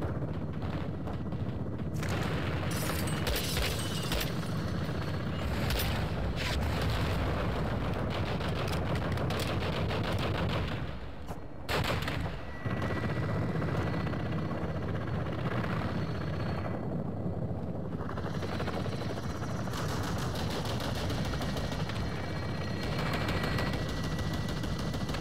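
Called-in strike explosions and heavy gunfire fill a Modern Warfare II campaign battle, with dense, continuous automatic fire and booming blasts throughout, helicopter-like rumble underneath, and a short lull near the middle.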